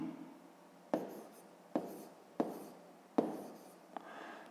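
Hand writing on paper during a fifth-grade math subtraction exercise, heard as quiet, close pen or pencil strokes in short scratchy bursts, each starting with a sharp tap, with no talking.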